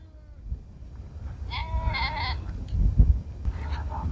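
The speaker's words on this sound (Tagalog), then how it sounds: "nandito yung mga nanganak na tupa" Sheep with newborn lambs kept apart in a pen on a farm in Saudi Arabia let out a few wavering bleats, moderately near, over low rustling and background farm noise.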